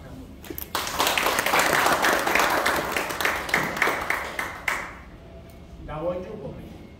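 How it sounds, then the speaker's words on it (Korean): Brisk applause from a crowd at a nonprofit's founding general meeting fills most of the clip, loud and continuous, then dies away into a few scattered claps and quiet room noise. "박수 한번."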